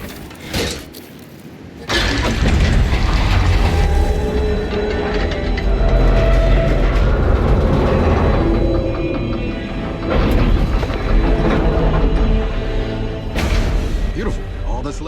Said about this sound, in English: Jack, get that train pointed toward the hangar